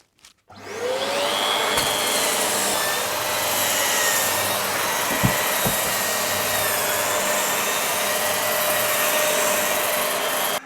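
An Evolution R225DWS drywall sander runs with a vacuum attached, giving a steady, loud motor whine and airflow roar that starts after a short pause and holds for about ten seconds, with a couple of brief knocks midway.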